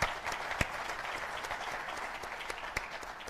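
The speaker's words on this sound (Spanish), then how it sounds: "Un aplauso para Eugenio Tironi." A seminar audience applauds Eugenio Tironi with steady, fairly faint room-wide clapping and occasional sharper nearby claps.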